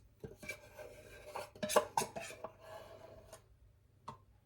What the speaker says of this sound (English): giving it a really good whisk once you've got this in